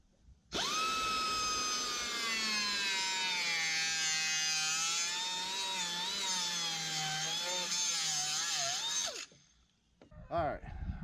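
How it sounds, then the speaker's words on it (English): A small cutoff wheel grinds through metal on a 1959 Ford F-100, a loud, high, steady whine lasting several seconds before spinning down, followed by a few faint clunks. "I'm going to try to cut it with the little cutoff wheel"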